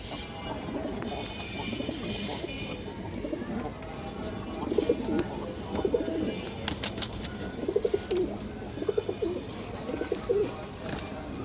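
Pigeons coo in a loft, including racing birds of a long-distance flying strain, with repeated soft low coos rising over a steady background hum and occasional sharper chirps, no voices present.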